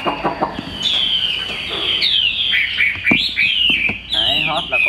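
A white-winged mutant hwamei songbird sings loud, varied warbling phrases with sharp chirps and trills, close by, over a faint background voice.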